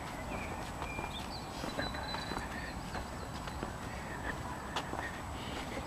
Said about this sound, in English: Round big mare.